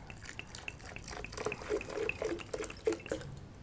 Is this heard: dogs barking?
no